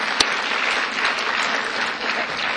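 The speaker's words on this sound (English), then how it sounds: "how about another round of applause for her?" Audience applause at an awards program fills the room steadily, a dense continuous clapping from a large crowd, loud and sustained throughout with no one speaking over it.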